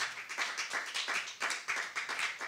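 Church congregation claps briskly and steadily for about two and a half seconds, a dense, close, uneven patter of many hands with no voices rising above it.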